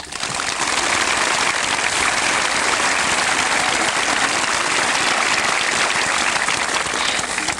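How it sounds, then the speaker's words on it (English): A school graduation audience breaks into sustained applause, a dense, even wash of clapping that holds steady and loud from start to finish with no voices standing out. "May we have a round of applause, please?"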